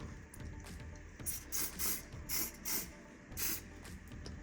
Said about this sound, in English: I can just spray.